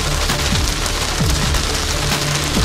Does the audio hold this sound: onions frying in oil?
no